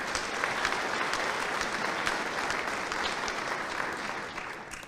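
Sustained applause from a seated audience at a Sixteenth Air Force change of command ceremony, a steady dense patter of many hands clapping at moderate distance, fading slightly toward the end.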